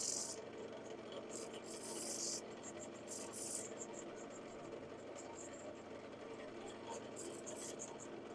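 A sanding disc presses against spinning wood on a lathe during woodturning, giving a steady close rasping hum with brief brighter scratchy bursts where extra pressure bites into the workpiece.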